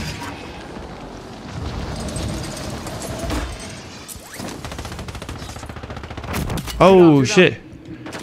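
Gunfire on Rebirth Island in Call of Duty, scattered bursts and distant shots under a player talking, with a louder burst and a sharp whining effect near the end.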